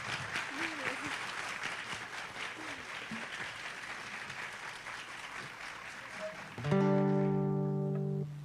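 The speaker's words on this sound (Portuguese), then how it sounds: "Uma salva de palmas." Audience applause at an opening session of a school violence-prevention forum, steady clapping for several seconds that stops abruptly as loud music with sustained tones cuts in near the end.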